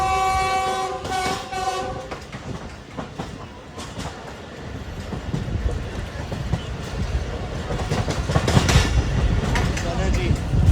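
The Baba Farid Express rushes past at a railway station, a loud train horn blaring in short blasts early on, then wheels clattering and roaring closer and louder toward the end.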